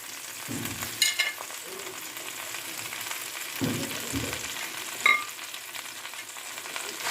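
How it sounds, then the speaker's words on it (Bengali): Mixed vegetables for a Bengali niramish labra frying together in a pan with ginger, a soft, low hiss with a few occasional stirring scrapes and clanks, close but quiet, with no talking. "সবজিগুলো এবার ভাজবো"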